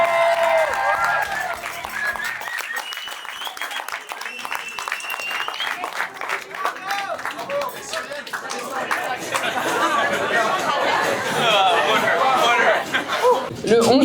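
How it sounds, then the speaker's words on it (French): Wedding guests applaud the newlyweds in a long, loud burst of dense clapping, joined by chatter and laughter, swelling toward the end. "on leur fait un tonnerre d'applaudissements s'il vous plaît"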